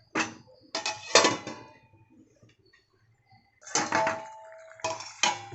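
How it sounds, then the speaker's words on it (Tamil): Metallic clatter and knocks of a lid being set on a pot of drumstick curry, in two bursts separated by a quiet gap, close and fairly loud. "மூடி போட்டு ஒரு 5 நிமிஷம் கொதிக்க விட்டுருங்க."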